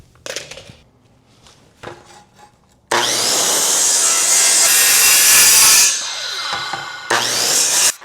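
A power saw with its blade depth set to 1 3/4 inch cuts into wood for a homemade bed dolly, loud close ripping for about three seconds, then a second shorter cut after some lighter knocks and handling.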